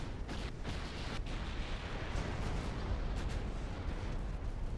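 Torpedoes and explosions rumble through a naval war game battle, a continuous low, booming roar with occasional sharper bursts layered over it, moderately quiet and with no talk.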